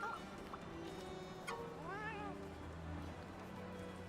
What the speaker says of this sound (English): It's a cat named Sue.